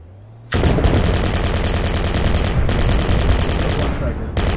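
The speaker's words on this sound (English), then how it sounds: "I'm shooting in the fucking side as well." Sustained automatic gunfire from a video game, loud and dense, starting abruptly after a brief quiet moment and continuing as rapid rattling bursts with short breaks.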